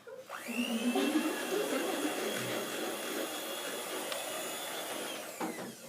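Electric mixer beating powdered sugar into frosting, a continuous whirring motor drone with a rising pitch at the start, steady and close for several seconds before winding down.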